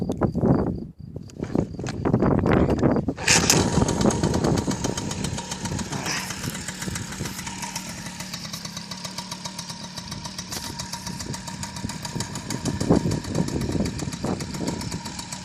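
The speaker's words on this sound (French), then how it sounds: "Très bon ralenti forcément puisque c'est d'origine, donc rien n'a été touché" A stock MBK 51 Mag Max moped kicks into life with a brief rev, then settles into a steady, rapid two-stroke idle that putters close and loud without pause, no talk over it.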